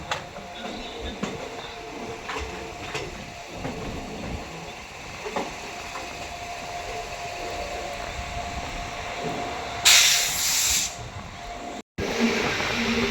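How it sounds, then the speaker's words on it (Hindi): A train arriving at Mathura Junction station in the rain rumbles and hisses steadily in the distance, with a burst of loud hissing near the end, as rail machinery noise fills the background. "पैंतालीस मिनट की देरी के साथ मथुरा जंक्शन में ट्रेन का अराइवल हो रहा है"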